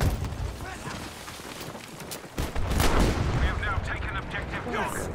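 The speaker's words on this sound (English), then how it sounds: "All them shots and I still missed them." Gunfire in the video game Battlefield V: dense bursts of shots and booming explosions, loud and continuous throughout, with a voice talking underneath.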